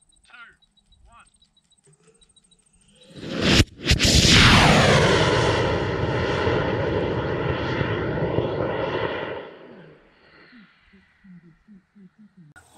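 A model rocket motor ignites with a sharp crack and then roars steadily for several seconds at a club launch under clear skies, fading as the rocket climbs away, with a voice counting down just before it.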